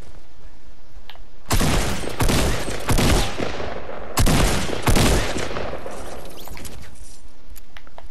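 Video game gunfire in bursts of rapid shots, loud and close, clustered from about 1.5 to 5.5 seconds, with short gaps between volleys and quieter background afterward.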